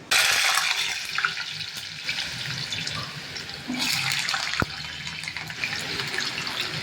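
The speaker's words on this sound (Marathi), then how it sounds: "आता आपण याला तळणार आहोत" Hot oil sizzles and crackles steadily as yam pieces fry, loudest right at the start, then a constant hiss with no voices.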